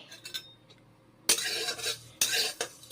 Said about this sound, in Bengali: তেল গরম করে নেব বেশ ভালো করে পাঁচফোড়নগুলো ভেজে নিচ্ছি